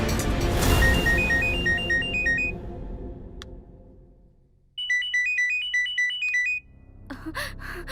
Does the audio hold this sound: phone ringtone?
yes